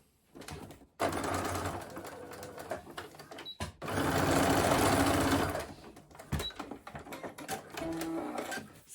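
Domestic sewing machine stitching across the top edge of a fabric crossbody bag, running in several close, steady whirring bursts separated by short pauses, loudest in a sustained run near the middle.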